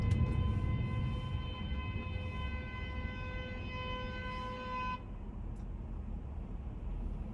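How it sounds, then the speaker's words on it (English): A car horn holds one long steady tone behind a car driving in New York City traffic near the World Trade Center, then cuts off, leaving road noise. "You can hear the person honking behind me."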